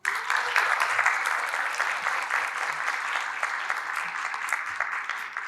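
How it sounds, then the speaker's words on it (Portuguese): An audience gives warm applause to Ricardo Almeida at a conference panel event, a sudden, steady burst of clapping that stays full and even before tapering slightly at the end. "estender uma calorosa salva de palmas ao Ricardo Almeida"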